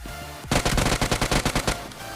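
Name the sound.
shotgun gunfire in BGMI video game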